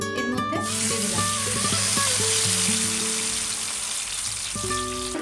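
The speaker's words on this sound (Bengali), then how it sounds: "এরপরে ওই তেলেই আমরা দিলাম সামান্য কালো জিরে ফোড়ন। আমরা সর্ষে বাটা এর মধ্যে দিয়ে দিলাম।" Mustard paste sizzling in hot oil over nigella seeds for a pabda fish dish: a loud, dense crackling hiss that carries on steadily, with a few clinks of utensils near the start and end, no speech.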